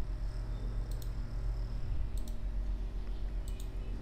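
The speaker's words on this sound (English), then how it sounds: "So just double click it to extract this zip file." Two quick mouse clicks repeat three times in a quiet room, each a crisp, close double-click over a low steady hum, with no talking.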